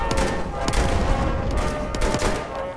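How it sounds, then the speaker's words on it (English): Battlefield 1 combat with gunfire: sharp shots crack out at irregular intervals over a dense, loud background of battle noise. "Is there a tank shooting at us right now?"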